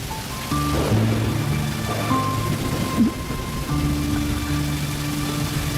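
Steady rain pours under a low rumble of thunder, with sustained tonal music layered over the storm.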